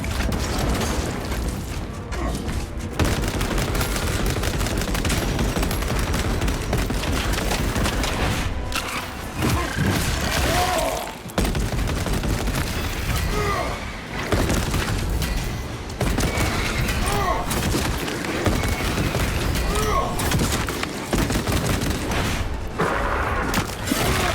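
A heavy bolt rifle fires in a video game after damage buffs in Patch 11.0, producing a dense, loud, continuous barrage of booming gunfire and mechanical clatter with only brief lulls across about twenty seconds.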